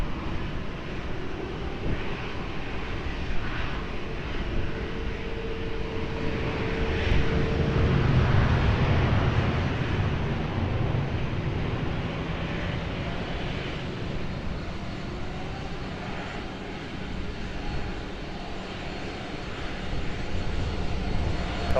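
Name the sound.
aircraft landing at Lisbon Airport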